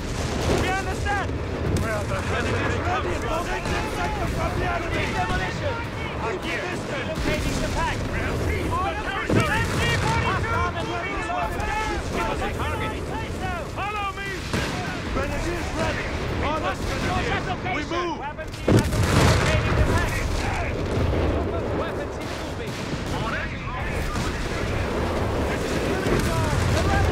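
Dense battle din from Company of Heroes 3 with 2 cm flak and gunfire: steady rattling shots and booming blasts roll on without pause, with a sharper, louder burst near the end.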